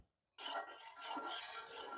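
An iron kadai being seasoned with white cooking oil makes scraping metallic clinks and a rough sizzling hiss that start abruptly after silence and continue close and steady.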